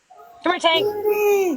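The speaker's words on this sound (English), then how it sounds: "Look at that dog." A big scruffy doodle-type dog whimpers and gives a short whine indoors while people talk and call to it nearby, the dog's voice rising and trailing off under the chatter.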